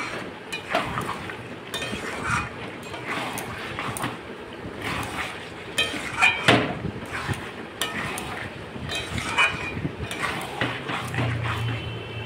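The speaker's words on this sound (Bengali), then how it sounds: "দেখো, আলুটা দিয়ে নেড়ে চেড়ে আমি জল দেব, সামান্য জল দেব" A spoon scrapes and clatters as potatoes are stirred into mutton curry in a metal pot, with irregular close knocks and scrapes over a rough, windy background hiss.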